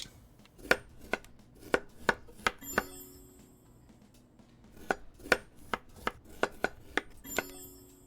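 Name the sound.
chopping food on chopping board, Chef Life video game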